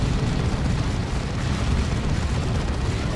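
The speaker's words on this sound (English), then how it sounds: "Las Cannon now getting shots on a Dreadnought." Lascannon fire aimed at a Dreadnought during a Dawn of War 2 battle between Chaos Space Marines and Space Marines, heard as a steady, dense low rumble of blasts and booms with no distinct breaks.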